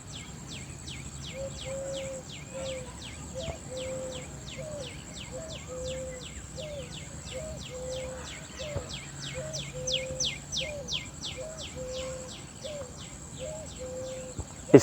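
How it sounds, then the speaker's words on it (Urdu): Morning outdoor ambience with a dove cooing in a steady repeating pattern and small birds chirping in fast, even, continuous trills, moderately loud and close throughout. "اس فاختہ کی آواز کو سنیے"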